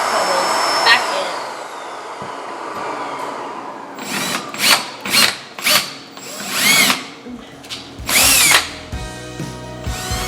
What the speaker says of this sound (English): I'm just using a bit to put holes back in.